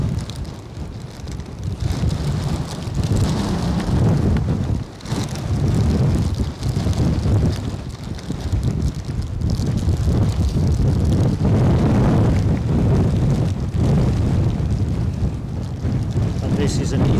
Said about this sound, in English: And this is an EasyJet 320 Neo off to Bristol.